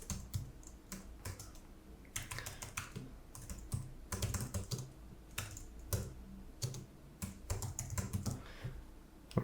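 A computer keyboard clatters with fast, irregular bursts of typing and short pauses, close and clear with no voices.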